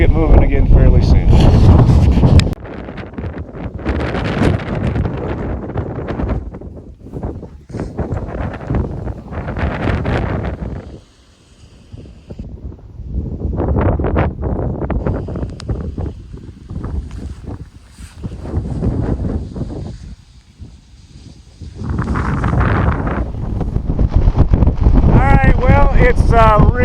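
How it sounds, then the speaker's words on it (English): Strong wind on a volcano mountainside in Mexico roars and buffets the microphone in long, loud gusts that rise and ease in waves across the whole stretch. "It's really, really windy up here"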